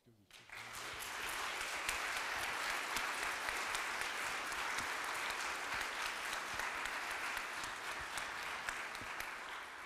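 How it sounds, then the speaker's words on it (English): An audience applauds an alumni panel at Mercyhurst University's intelligence studies anniversary event, a sustained, dense wash of clapping that swells quickly and holds steady and fairly loud throughout, with faint voices mixed in. "give them a round of applause"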